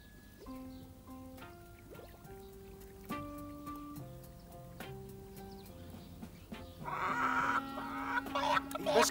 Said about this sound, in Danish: Adgang forbudt for høns.